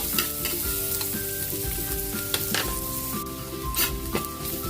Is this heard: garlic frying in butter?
yes